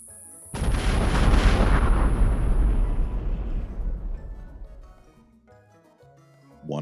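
A massive explosion of many blasts going off together: a sudden loud, deep roar that rumbles heavily for several seconds and slowly fades, with another sound starting at the end.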